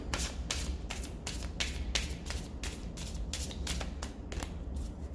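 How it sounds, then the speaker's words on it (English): A deck of cards is riffled, a rapid string of crisp flutter bursts repeating steadily at close range, with no voices. "let's just do one riffle shuffle to make sure that the deck is"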